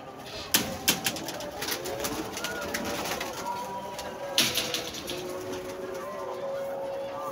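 Six pigeons coo softly in the background while a voice counts them aloud in Hindi over a steady outdoor hum, with a few sharp clicks near the start.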